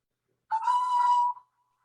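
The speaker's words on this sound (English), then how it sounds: "F3 is now a long whistle." A DCC model locomotive sound decoder sounds a long whistle on function F3, a single steady tone held for just under a second, starting abruptly and fading out, alone in silence.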